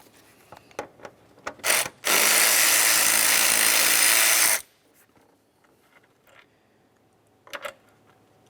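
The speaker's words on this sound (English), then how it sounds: "The next thing I like to do is move along to removing the 2 bolts that hold our fan shroud housing to the" Ratchet loosening the two bolts that hold the fan shroud to the radiator on a 2001-2005 Ford Explorer Sport Trac, a long steady close ratcheting whir after a few scattered clicks and clunks.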